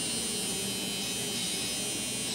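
A compact battery-powered 4-in-1 nose, ear and beard hair trimmer runs with a steady, close, high-pitched electric buzz that holds constant throughout with no voices.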